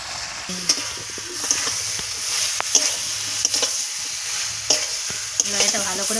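Vegetables with chilli powder and turmeric being fried and stirred in a pan, a steady sizzle with repeated scraping strokes of a spoon, close and clear with no voices.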